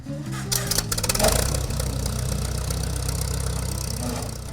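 A classic Farmall 400 tractor engine runs steadily and loudly, with a low, even rumble and a slight rise in revs near the start.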